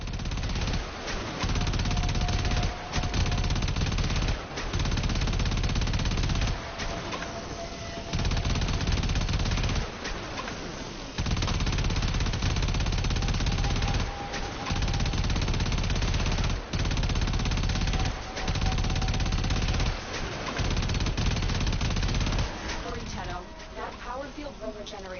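Rapid bursts of gunfire from the sci-fi shooter Warframe during a core assault, loud and repeated in dense volleys with short pauses, alongside continuous game effects and occasional voice.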